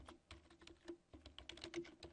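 Keys clatter on a computer keyboard as text is typed into a PowerPoint 2010 slide, a quick irregular run of close, crisp clicks heard alone.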